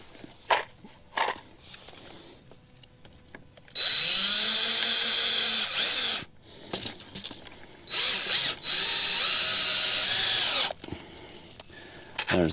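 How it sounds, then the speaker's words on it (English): Power drill driving a screw into wood while building a DIY chicken tractor watering system, two sustained whirring bursts with rising and falling pitch, close and loud, separated by handling clicks and shuffling. "I'm gonna screw that right in here"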